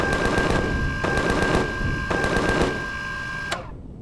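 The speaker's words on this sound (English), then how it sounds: "what are you shooting at?" Rapid automatic gunfire from alien ground troops in the survival game Empyrion Galactic Survival, loud bursts of repeated shots in several volleys with a steady tone ringing behind, ending in one sharp final crack.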